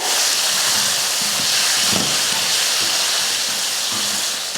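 Chicken sautés loudly and continuously in hot oil, a dense steady hiss with faint scraping stirs underneath.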